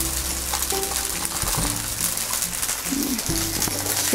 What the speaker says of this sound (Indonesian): kita aduk-aduk dulu ya nih biar enggak ngegimpal gini nih nasinya tuh